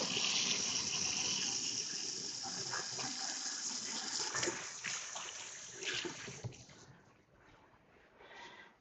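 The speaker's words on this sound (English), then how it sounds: "And I'm going to wash my hands." Tap water runs steadily into a kitchen sink during hand washing, a close, continuous splashing gush that shifts as hands move under the stream and then tapers off near the end.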